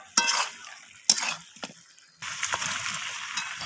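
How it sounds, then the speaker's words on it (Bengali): A spoon knocks and scrapes through mutton curry in a pot after salt goes in. Sharp clanks are followed by soft sizzling and shuffling, then a steadier low stirring sound at close range. "লবণটা দিয়ে আমি আবারও মিশিয়ে নিচ্ছি নাড়াচাড়া করে"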